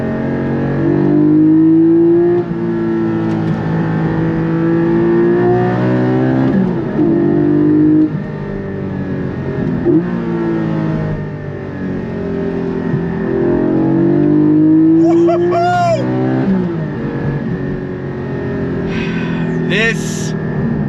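A Porsche 718 Cayman GT4 drives at speed, its engine droning and rising and falling in pitch through revs and gear changes, with someone talking over it throughout and brief sharp squeaks near the end.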